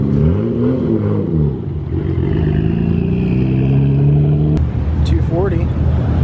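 Sports cars at a car meet, including a 300ZX, a 240, an R32 and an Evo, roll past with loud engine drones and revs rising and falling, under excited talk from people nearby.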